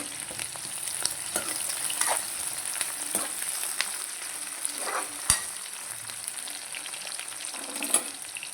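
Cluster beans and a large chopped onion stir-fry in a pan, a steady hiss of sizzling with scattered scraping clicks from stirring, close and continuous with no talking.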